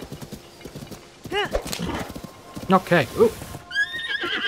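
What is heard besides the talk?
horse hooves and whinny in Zelda: Tears of the Kingdom video game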